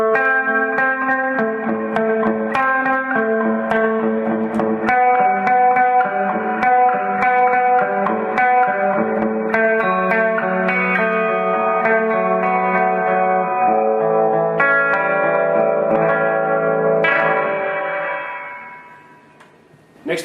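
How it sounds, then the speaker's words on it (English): Electric guitar played through a TC Electronic Hall of Fame reverb pedal on its lo-fi reverb setting, with sustained chords and notes washed in a gritty, murky reverb tail, loud and continuous before fading out near the end. "the lo-fi reverb recreates some of the very first reverb pedals you can get, and it's not a pretty sound"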